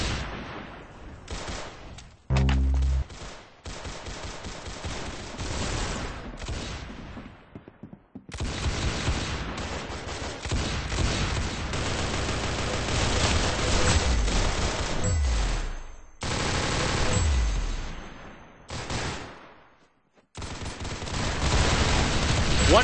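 Rapid gunfire from the video game Arsenal rattles in dense bursts and bangs, loud and continuous with abrupt cuts to silence between stretches, and heavy thumps mixed in.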